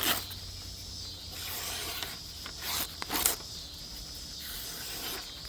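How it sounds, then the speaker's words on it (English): A factory-sharp edge on a budget knife slicing through a sheet of paper, giving a close, dry hiss and scrape in a few short strokes, with a sharper rasp near the end and no talking. "Just gonna cut a little bit of paper just to see how sharp it is from the factory"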